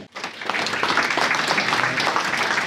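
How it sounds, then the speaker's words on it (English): Applause from an audience at an investor evening, a broad, steady wash of clapping that starts abruptly and holds at full strength for a few seconds. "big round of applause for Matt and Angelo."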